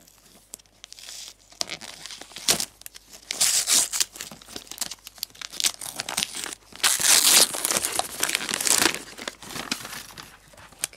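Gift packaging crinkled and torn open during unwrapping, with continuous close rustling, crackling and tearing that grows denser and louder partway through.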